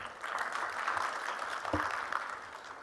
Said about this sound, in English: I ask you to clap for this government because we are doing well.